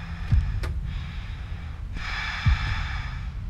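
Loud, heavy breathing of a demon in the horror video game Apartament 1406, two sharp gasping inhales about two seconds apart over a low rumbling game ambience.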